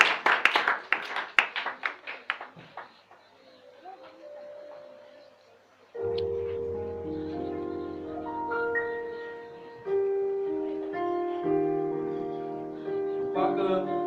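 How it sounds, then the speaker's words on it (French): A church congregation claps rhythmically in praise of Jesus: a run of sharp, fast, fairly close hand claps that fades out before an organ-like keyboard takes over with sustained chords. "Acclamons pour Jésus."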